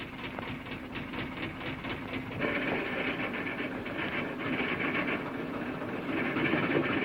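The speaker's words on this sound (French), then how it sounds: "Il met sa loco en marche trop tôt" Coal mine locomotive starting up on underground rails: a steady mechanical rumble with rhythmic clattering that grows slightly louder as it gets moving, with no talking.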